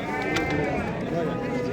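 Sheep bleat in a noisy livestock market crowd, several overlapping calls blending into a steady wavering din, fairly close and continuous.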